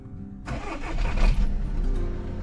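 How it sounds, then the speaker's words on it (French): Audi Q2 30 TDI diesel engine cranking and starting, a sudden broadband burst that settles into a steady, close idle rumble with no talk over it. "on va procéder à la mise en route de la voiture"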